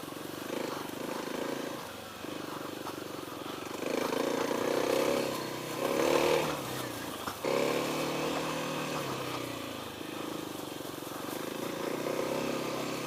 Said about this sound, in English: That stock exhaust is so weak. It'll sound a little bit better as it burns in, but it's got no throat to it right now.